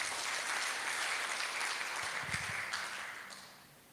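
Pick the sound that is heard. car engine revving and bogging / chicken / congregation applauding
congregation applauding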